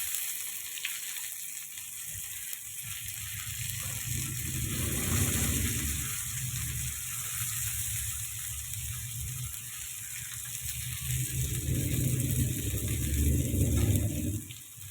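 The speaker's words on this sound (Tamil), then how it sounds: "திருப்பி போட்டு ஒரு 2 நிமிஷம் ஃப்ரை பண்ணுவோம்" Fish coated in masala sizzles and fries on a hot tawa, a steady close crackle that swells louder in two bursts, with no voices.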